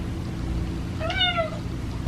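A single clear cat meow, rising then falling, lasting about half a second over a low steady background hum, close and moderately loud.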